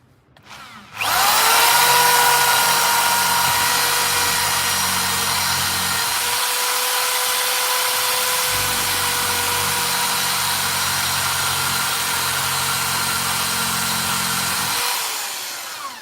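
A power drill runs loud and close in a long continuous whine, with two spells of heavier low grinding under it and a spin-down at the end.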